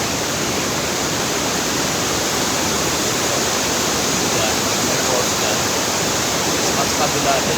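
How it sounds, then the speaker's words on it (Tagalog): Steady, loud roar of a waterfall near a glacier in Norway, a dense, unbroken rush of falling water filling the whole stretch up close, with no pauses or changes. "May falls naman doon."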